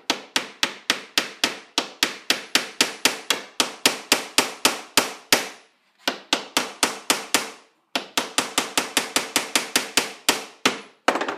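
Nails hammered into a wooden candle holder: rapid runs of sharp, loud hammer blows close by, in bursts of about a dozen strikes with short pauses between them and no talking.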